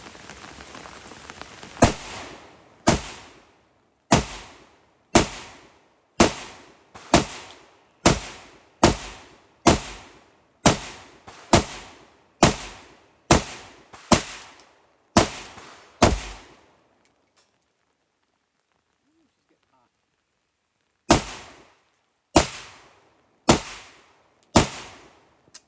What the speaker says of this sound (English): Hollow points. Will it fire them?